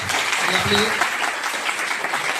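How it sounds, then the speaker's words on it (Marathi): An audience claps continuously at an indoor talk event, a dense wash of applause at steady volume throughout the short stretch. "जोरदार यांच्यासाठी एकदा टाळ्या होऊन जाऊ द्या"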